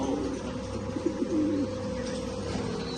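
A fancy pigeon coos up close in a short rolling series over a steady low background hum, with no voices.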